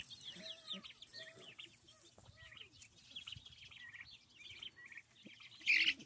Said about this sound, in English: Just an angry turkey.